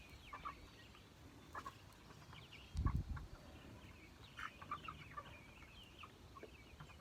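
Meat chickens in a brooder cluck softly and intermittently, with one louder burst near the middle over a quiet background.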